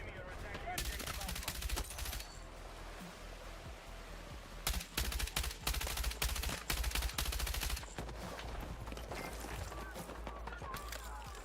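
An M123K machine gun fires in RedSec multiplayer in long, dense bursts of rapid shots, loud and close, with a short pause between volleys and other gunfire and game noise around it.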